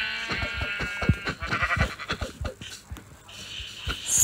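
Sheep bleats in a video game, several short wavering cries mixed with clicks and game sounds while a voice talks over them nearby.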